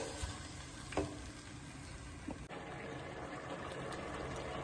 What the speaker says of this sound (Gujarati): આવી રીતે આ બધું જ શાક મિક્સ કરી દેવાનું છે